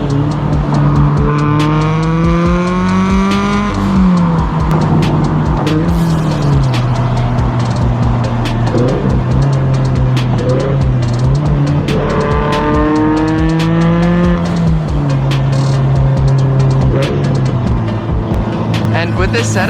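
Turbocharged Subaru BRZ running E85 at about 350 wheel horsepower, accelerating hard through the gears with loud, rising engine revs and repeated upshift dips, close up and continuous, with voices talking underneath.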